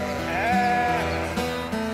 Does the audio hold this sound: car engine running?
no